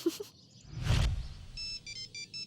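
A mobile phone ringtone starts up after a rustle and soft thump, playing short repeated bursts of a bright electronic melody, moderately close and with no one talking over it.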